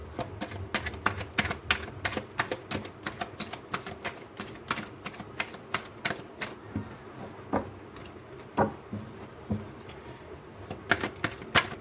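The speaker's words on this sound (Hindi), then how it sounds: "चलिए कार्ड्स को शफल करना शुरू करते हैं।" Tarot cards are shuffled by hand in a quiet room, giving a steady run of crisp flicks and soft slaps, close and moderately loud, with no talk.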